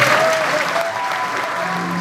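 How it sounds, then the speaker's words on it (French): Audience applause at a live comedy show, a steady, loud patter of clapping filling the whole moment with no voices over it. "on peut l'applaudir."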